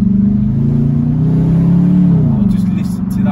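A BMW 645ci with a big engine, rear-wheel drive and a manual semi-automatic gearbox drones loudly and close by, its pitch rising and then settling as it revs, while a voice speaks over it.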